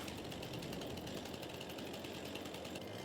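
Chainsaw felling trees as low to the ground as possible in Farming Simulator 22, a steady dense mechanical buzz running throughout without letup.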